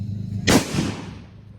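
Diwali firecrackers burst close by: one sharp, loud crack followed by a second, softer bang, with a brief decaying tail and no talking.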